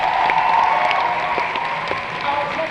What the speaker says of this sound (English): Once more for all our entrants, a big round of applause